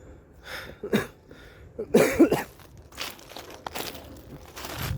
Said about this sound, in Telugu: బయటికి దగ్గు వచ్చేస్తుంది